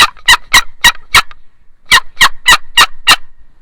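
Boat paddle turkey call worked by hand to imitate turkey gobbles, two loud rapid bursts of about five sharp raspy notes each, separated by a short pause, close and alone.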